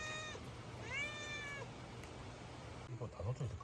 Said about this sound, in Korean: 새끼 고양이.